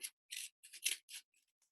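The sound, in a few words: scissors trimming excess card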